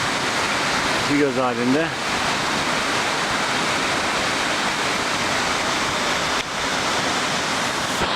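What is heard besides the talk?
Aras waterfall at Uludağ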